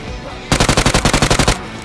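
Rapid automatic gunfire in the mobile shooter Peacekeeper Elite: a loud, close burst of about a dozen evenly spaced shots lasting roughly one second, with quieter game ambience before and after.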